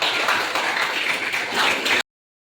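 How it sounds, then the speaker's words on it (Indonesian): Schoolchildren clapping together in a classroom, a dense continuous patter of many hands for about two seconds before stopping abruptly. "berikan tepuk tangan"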